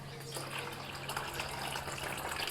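Water pours steadily into a plant pot, a continuous faint splashing gush with a low hum underneath.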